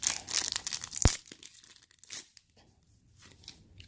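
A Buddyfight card booster pack rips open in a close, crisp tear with crinkling foil, a sharp snap in the middle, then a trailing crumple and quiet rustle.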